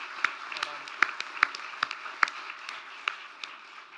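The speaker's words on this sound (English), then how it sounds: "So big round of applause for Bryony this morning" A small audience claps for an award nominee at a community awards morning, sparse and fairly quiet, with a few distinct claps standing out in a loose, irregular rhythm over a soft room background.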